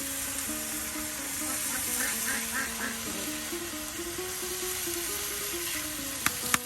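Potatoes frying in a pan for a village-style Bengali iftar meal, a steady soft sizzle with a spoken voice running over it the whole time.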